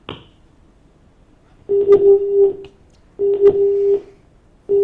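A telephone line tone sounds after a caller's line drops on a live television phone-in programme: steady beeps, each about three-quarters of a second, repeating at a regular pace, clear and alone.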